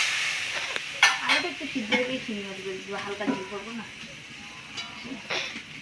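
Curry in a pan sizzles and spits after a splash of water goes in, a steady frying hiss with stirring clatter while a voice talks over it.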